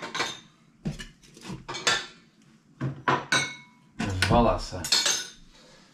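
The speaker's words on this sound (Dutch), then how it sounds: "Maar alles wat hier nu ligt ga ik eens afwassen." Dishes, pots and cutlery being washed by hand at a sink: a series of sharp clinks, clatters and knocks of metal and crockery, close and irregular, with one short spoken word.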